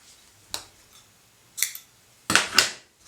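Scissors snip through wrapped yarn for a pom pom, four crisp, quick cuts spaced irregularly, the last two close together, loud and near against a quiet room.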